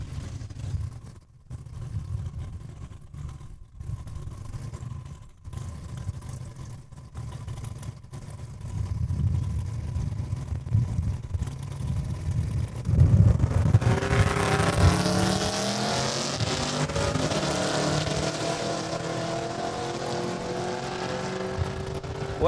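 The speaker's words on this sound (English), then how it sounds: "Barbara Stettner getting another run under her belt. 82 Camaro out of Regina." Drag racing cars, an '82 Camaro and a Blue Cougar, make a run at Saskatchewan International Raceway; engine noise starts low and distant, then rises into a loud, sustained roar of acceleration.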